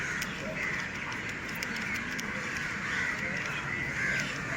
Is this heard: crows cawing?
yes